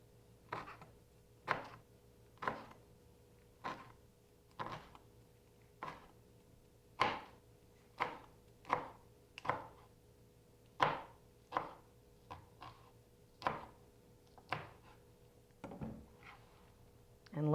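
A knife cuts through rolled chard leaves on a cutting board, giving a steady series of crisp chops about one per second, close and even, with a faint hum underneath.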